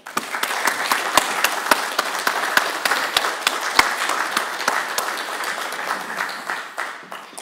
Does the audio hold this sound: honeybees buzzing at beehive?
no